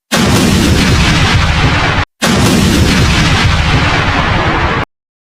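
Atomic bomb explosion over wartime Japan: a sustained, very loud roaring blast filling the whole range, cut by a brief gap and then continuing as a dense rumbling wall of noise.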